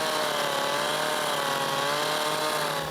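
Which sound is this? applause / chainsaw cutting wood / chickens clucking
chainsaw cutting wood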